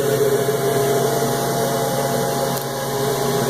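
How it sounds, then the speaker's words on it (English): A loud blower on an upgraded Chinese laser cutter runs continuously nearby, a steady motor whine and rushing air that barely changes for several seconds. "Blower's on."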